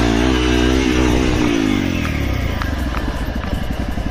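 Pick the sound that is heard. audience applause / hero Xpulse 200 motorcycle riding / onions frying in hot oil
hero Xpulse 200 motorcycle riding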